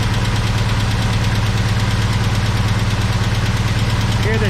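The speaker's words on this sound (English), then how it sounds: "that sounds like a lifter tick and not an exhaust tick" A 1970 Chevy big block idles loudly up close with a lumpy, throbbing rhythm and a quick, persistent lifter tick tapping over the rumble, with a voice talking briefly over the engine.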